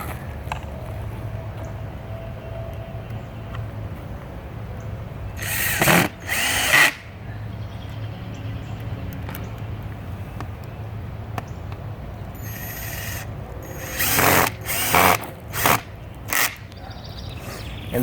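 A power drill drives the last two screws into a garden gate on a raised garden build: one pair of short whirring bursts, then a cluster of quicker bursts later, over a steady low outdoor hum.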